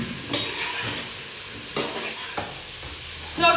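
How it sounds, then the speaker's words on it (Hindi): Masala fries in a pan with a soft sizzle while a utensil stirs and scrapes against the metal in a few distinct knocks, close and without speech. "मसाला हमारा अच्छे तरीके से भून गया।"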